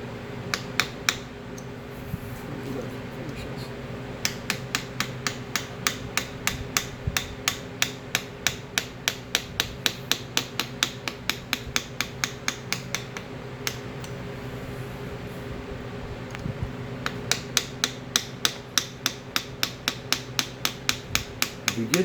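A hand engraving chisel is tapped through steel on small gun parts, with steady rhythmic light metallic taps in long runs, a few brief pauses between, close and clear over a low background hum.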